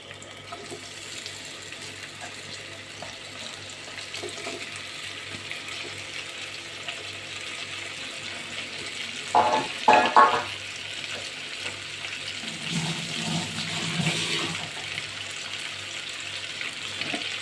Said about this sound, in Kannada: ಎಣ್ಣೆ ಕಾದ ನಂತರ ನಾವೀಗ ಮ್ಯಾರಿನೇಟ್ ಮಾಡೋಕ್ಕೆ ಏನು ಪನ್ನೀರ್ ಇಟ್ಟಿದ್ವಲ್ಲ ಅದನ್ನು ಇದರಲ್ಲಿ ಹಾಕ್ಕೊಳ್ಳೋಣ.